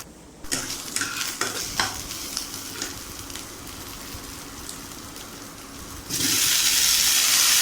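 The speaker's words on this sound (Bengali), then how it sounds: "এবার আদা, কাঁচা লঙ্কা, কালো জিরেটা খুব ভালো করে একটু ভেজে নেব।" Ginger, green chili and nigella seeds fry in a pan with a steady close sizzle, punctuated by stirring scrapes early on, then a sudden louder burst of hissing near the end.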